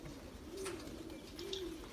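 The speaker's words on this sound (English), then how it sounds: "Birds are out." Pigeons or doves coo softly on a cloudy, brightening morning outdoors, two low drawn-out coos spaced about a second apart over steady background hum, with faint chirps from other birds.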